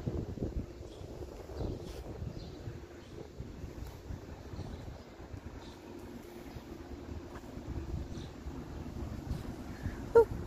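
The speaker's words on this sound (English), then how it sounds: "Sorry guys, too much wind." Strong wind buffets the microphone outdoors at a graveyard burial site, a steady low roaring rumble that persists throughout with gusty swells and one sharp thump near the end.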